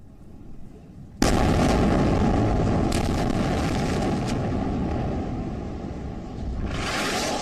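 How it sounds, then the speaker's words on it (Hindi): Israeli air strike bombs exploding over Gaza: a sudden loud blast opens into a sustained roaring, rumbling wash of explosion noise, with a second surge near the end, and no voices. "इजराइल की वायुसेना लगातार गाजा में हमास के ठिकानों को बम से उड़ा रही है"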